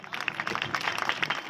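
Audience at a Marathi kirtan by Satyapal Maharaj clapping together, a brief, moderately loud patter of many hands lasting about a second and a half, with no voices over it.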